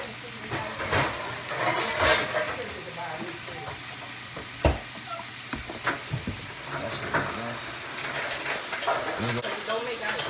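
Celery, carrots, onions and jalapenos sizzle steadily in a pan for vegan potato soup, with sharp scraping and clacking stir strokes popping out over the hiss.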